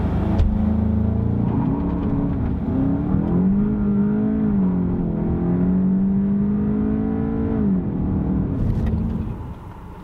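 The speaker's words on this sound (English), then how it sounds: "left foot on the brake, hammer the throttle, and it's going to say launch control has been activated" A 2018 VW Golf GTI revs loudly and steadily with launch control engaged, the engine tone rising and falling as it is held against the brake, then dropping off abruptly near the end.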